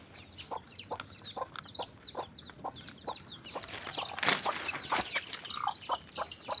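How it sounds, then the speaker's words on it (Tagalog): Chickens cluck repeatedly at close range in short, rhythmic bursts inside a coop, with a brief flutter of wings partway through. "dito naman tayo sa kulungan ng manok"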